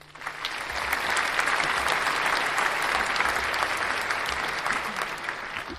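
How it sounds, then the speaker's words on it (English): Studio applause sound effect: a dense, steady burst of many hands clapping that swells in quickly and holds at an even level, with no voices over it. "quick round of applause."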